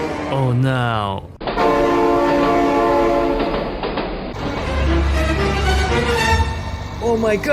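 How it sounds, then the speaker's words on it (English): A passing train in BeamNG.drive sounds its horn, a loud, sustained multi-tone blast that holds steady for several seconds, with brief excited talk before it starts and a low rumble beneath. "Oh my god, train!"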